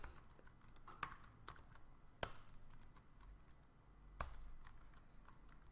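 Quiet, steady tapping of computer keyboard keys with a few louder clicks, continuous typing at close range with no voices.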